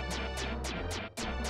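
Zip line platform sound effect from the Illusion of Gaia video game on Super Nintendo: a rapid run of about five identical descending, whooshing electronic tones repeating in a steady pulse, heard alone.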